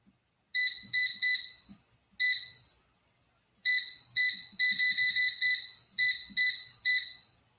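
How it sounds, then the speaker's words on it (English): Air fryer control panel beeping as the time is set to six minutes and it is started, a run of short, loud, high electronic beeps in quick clusters with pauses between them, alone without voices. "We're going to put these in air fryer. We're going to start with 6 minutes."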